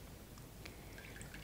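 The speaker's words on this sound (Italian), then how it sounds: "vediamo che l'ultima parte dell'acqua scende a mo' di fontanella" Water drains from a wet sheet of paper pulp in light, continuous trickles and scattered drips, quiet and close, with no talking.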